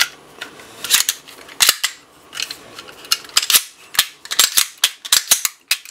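Sharp mechanical clicks from a Sig Sauer P365 trigger being pulled after a performance spring kit is fitted, a close, irregular series of crisp snaps with short pauses between them.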